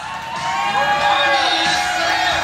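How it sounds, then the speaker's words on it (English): Crowd cheering and whooping at a bikini contest during Daytona Bike Week, a loud, sustained mass of voices swelling after the first half second and holding steady throughout. "I want to hear you guys cheer for all of these ladies, okay?"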